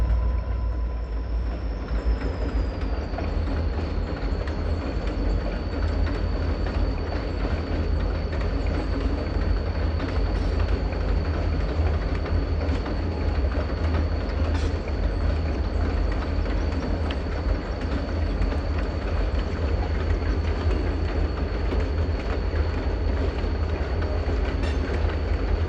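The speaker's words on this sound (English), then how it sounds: "The calm air allows a symphony of steel wheels over jointed rail to fill the small valley." A freight train rolls on steel wheels over jointed rail through a small valley, a loud continuous rumble with rhythmic clickety-clack and a long high wheel squeal running throughout.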